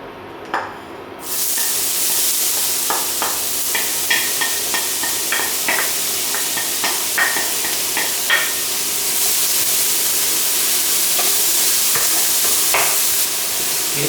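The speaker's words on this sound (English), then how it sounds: "first I'm going to cook in the onions and the garlic" Onions and garlic frying in oil in a pan, a loud, dense sizzle that starts after a short quieter moment, broken by repeated light clinks and scrapes of a spatula, close and with no voices.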